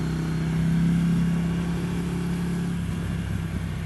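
A 2015 Ducati Scrambler Icon motorcycle with a Termignoni exhaust, its engine droning steadily and fairly loud, rising briefly in the first second and then settling into an even rumble, with no talking.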